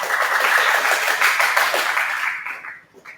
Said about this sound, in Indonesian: Tepuk tangan untuk Diko.